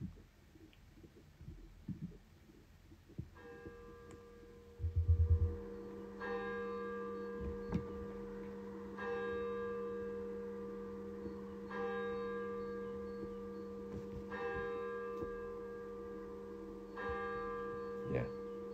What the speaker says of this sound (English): Oh, cathedral bells.